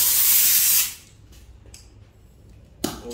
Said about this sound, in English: So now I go around, blow off the vehicle with my tack rag.